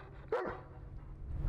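A dog gives a single sharp bark, close and loud, over a steady low rumble like a boat engine aboard a sailing vessel.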